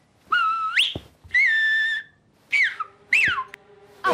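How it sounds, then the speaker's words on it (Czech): A girl whistles a short tune close up, several rising and falling phrases with gaps between them, loud and clear in a quiet room. "Viem výborne pískať. Počúvajte."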